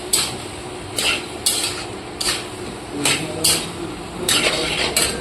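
Fried peas and chopped potato are sautéed in a pan, with a spatula scraping and knocking against the metal in repeated sharp strokes roughly every second over a low frying hiss, close and clear, with no talking.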